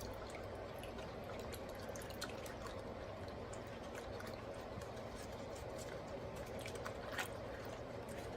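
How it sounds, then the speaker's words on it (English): A chalk paste stencil is swished around in a water bath, giving a faint, steady watery sloshing with a few soft drips, alone and without talk. "you put it into a water bath. You're going to swish it around, get some of the chalk paste off."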